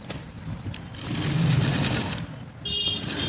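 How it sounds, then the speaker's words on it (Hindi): A sewing machine runs a double stitch on a dhoti salwar, its motor whirring close and steady in a continuous run, then briefly slowing before it starts again. "मैं इसमें डबल सिलाई चला रही हूँ।"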